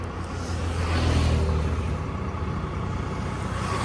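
Vehicles on a busy road near Paithan pass close by with a steady engine rumble and tyre roar that swells briefly and then settles into continuous traffic noise.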